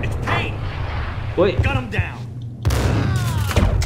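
Loud Max Payne gunshots and impacts crack over a voice, with a sharp blast near the end followed by ringing tail.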